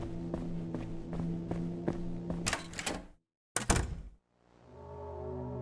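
In the video game Deadlines, a locked door is tried at night in empty school hallways, with a run of rhythmic clunks and rattles, then a sharp thud, a brief silence and a low fading rumble.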